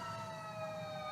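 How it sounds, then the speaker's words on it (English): A distant emergency siren wails steadily outdoors, faint but continuous, its tone sliding slowly. "outside fucking sirens going off every time?"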